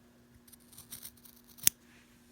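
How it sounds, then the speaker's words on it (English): Scissors making a single sharp snip through fabric while cutting a pleat for a 1930s skirt, with quiet handling sounds just before it in a calm room. "I'm just going to put my ruler at the shortest edge, and so I'm going to snip right here"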